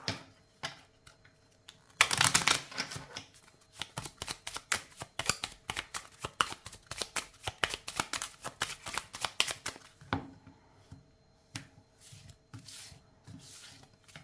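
A deck of tarot cards is shuffled close up in dense bursts of riffling and flicking, busiest in the middle and tapering into lighter, sparser taps and slides toward the end.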